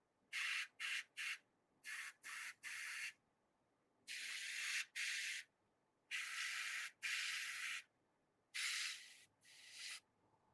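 Short hissing spray bursts, applied lightly in quick separate puffs: three rapid ones, a pair, then longer sustained sprays with brief gaps, close and fairly loud with no talking.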